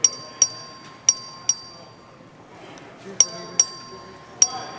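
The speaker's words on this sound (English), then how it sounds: "The clerk will ring the bell." A legislative chamber's voting bell rings in a series of sharp, bright strikes during a record vote, each one decaying quickly, irregularly spaced with a short pause midway, over a low hum of room murmur.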